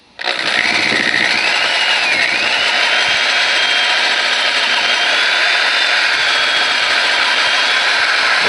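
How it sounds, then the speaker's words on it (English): Power drill spinning against a corn picker husking bed roll to roughen its surface, a loud, steady motor whine with grinding rasp, starting abruptly and running continuously up close. "you want the drill turning the opposite direction of the roller"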